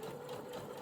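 A sewing machine stitches a seam on fabric for a crop top, a faint, quick, steady mechanical whir with rapid needle ticking throughout.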